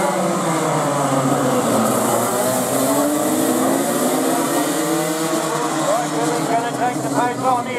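Race cars roar off the start of a Jason Richards GP race, engines revving and rising in pitch as the pack accelerates, with a commentator talking over the continuous engine noise.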